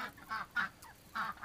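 Several 3-month-old ducks quack in short, nasal bursts, a few calls spaced irregularly, fairly faint and close by.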